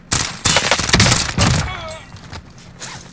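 Video game gunfire crackles in a dense, loud burst of rapid shots up close before giving way to quieter game sounds.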